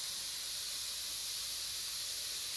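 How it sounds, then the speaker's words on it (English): Chanterelle mushrooms and garlic roasting in a pan over high heat give a soft, even hiss that holds steady and faint for the whole stretch. "go up a little on the high heat so they roast a little bit and the garlic gets nicely done"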